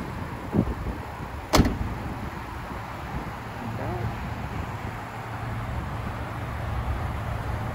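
A car trunk lid is pushed down and shut, giving a soft bump followed by one sharp, solid slam close by, then steady outdoor ambience.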